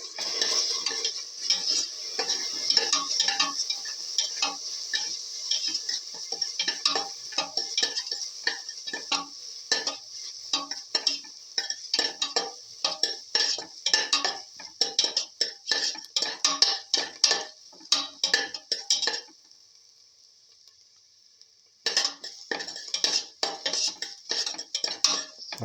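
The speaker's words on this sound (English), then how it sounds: "Saute mix thoroughly." A metal spoon scrapes and clinks steadily against a pan while fenugreek leaves are stirred and sautéed, with a soft sizzle running underneath; the rapid scraping pauses briefly near the end, leaving only the frying hiss, then resumes.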